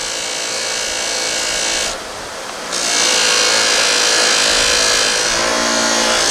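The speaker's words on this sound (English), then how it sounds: "That's what I like about a dedicated buffer." A dedicated bench buffer wheel buffs an item with a steady, broad hissing whir close by, easing off briefly near the two-second mark as the piece shifts, then pressing back in harder; no one talks.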